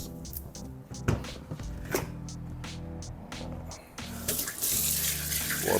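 Tap water running steadily into a sink as carrots are rinsed in a home kitchen, close and continuous, with a brief louder gush toward the end and faint handling sounds.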